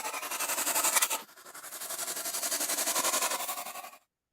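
A goose hiss processed with a static tremolo effect, two long breathy hisses pulsing with rapid, even amplitude wobble before cutting off abruptly, close and with no voices.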